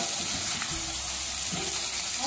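Onions frying in oil in a pan, a steady close sizzle with soft stirring scrapes, no voices over it.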